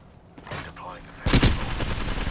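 Video game gunfire erupts in a dense burst of rapid shots after a quieter opening, with a voice speaking in the background.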